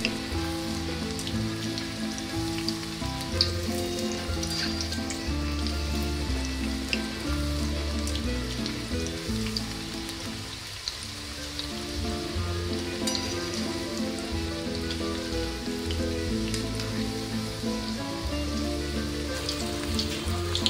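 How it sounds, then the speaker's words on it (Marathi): Spinach pakoras coated in gram flour batter deep-fry in hot oil, giving a steady, dense sizzle and crackle that runs unbroken at an even level throughout. "छान सोनेरी रंगावर ही भजी खरपूस तळा"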